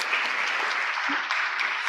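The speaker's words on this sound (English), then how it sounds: "So let's give them a clap again." Steady audience applause at a closing ceremony, a dense, even wash of many hands clapping throughout, close and continuous with no speech over it.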